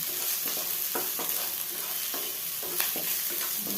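Baby corn sizzles in a pan with chili powder, salt and coriander powder as a spoon stirs it, with steady frying hiss and repeated scraping strokes close by.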